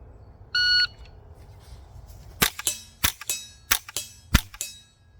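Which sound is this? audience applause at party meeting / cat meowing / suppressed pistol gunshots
suppressed pistol gunshots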